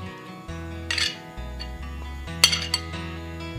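A spoon stirs dried mackerel chili paste in a bowl, giving a few light metallic clinks and scrapes over steady background music.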